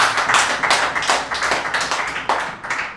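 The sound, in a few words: applause for competition participants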